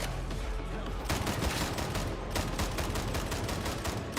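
Sustained rapid autogun fire from Warhammer 40,000 Darktide, a loud, close, continuous rattle of shots with brief pauses near one and two seconds, no talk over it.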